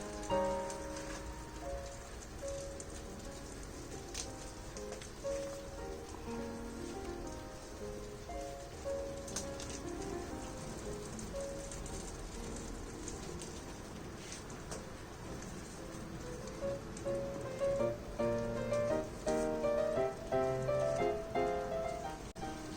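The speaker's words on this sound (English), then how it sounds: "It's raining today." Rain patters steadily on a surface, a soft continuous drizzle of drops heard at low volume.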